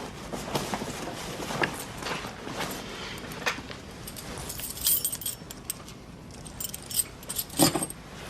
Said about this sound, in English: There are the keys to his shed.